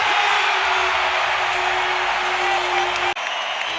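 A basketball arena crowd roars in a sustained standing ovation, a dense wall of cheering and applause that holds steady, with a brief sharp dropout near the end before it resumes.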